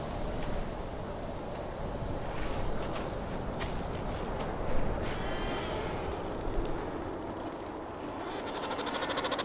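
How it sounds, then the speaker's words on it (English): Freezing wind sweeps steadily across the Antarctic ice where emperor penguins gather, a constant broadband rush with a few brief gusts and buffets. "A freezing wind blowing in from the heart of the continent drives the temperature"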